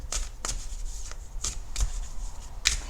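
Tarot cards are shuffled and flicked through by hand in a close, soft series of papery riffles and slaps, about six quick bursts over a few seconds.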